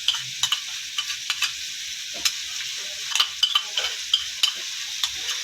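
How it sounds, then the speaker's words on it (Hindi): Oregano and ketchup are stirred into a frying chicken spaghetti sauce. A soft, airy sizzle runs beneath a string of sharp spoon scrapes and taps against the pan. "इसको मैं अच्छे से मिक्स कर लूँगी"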